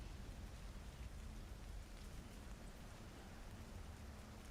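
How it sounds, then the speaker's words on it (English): Steady rain falls on surfaces, a dense, even hiss of drops with no breaks, fairly soft and constant throughout, used as atmosphere in a Southern Gothic horror tabletop role-playing session. "The rain starts to let up and is no longer pouring."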